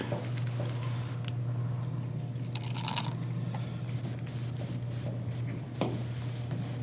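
Silver acrylic paint being poured and mixed for a dirty pour: faint, wet squishing and dripping sounds, close and irregular, over a steady low hum, with no talking.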